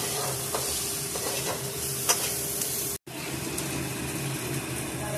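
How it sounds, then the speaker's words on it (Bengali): Turmeric, chili powder and spices frying in a pan for stuffed bitter gourd, a steady close sizzle with scraping stir sounds and a brief cut-out midway. "স্বাদ মতো ঝাল, লঙ্কার গুঁড়ো দিয়ে সবগুলোকে একসাথে একটু ভালো করে ভেজে নিতে হবে।"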